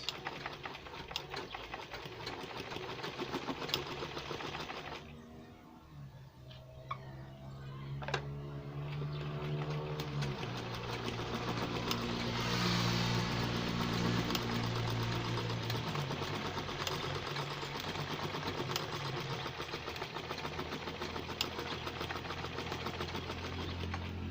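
Sewing machine stitching nightwear fabric, a steady close mechanical whirr of the needle running for most of the stretch with a brief slowdown partway through.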